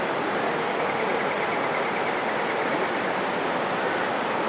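Floodwater rushing over a yard beside a bungalow, a dense continuous roar like a torrent, steady and close, with no voices.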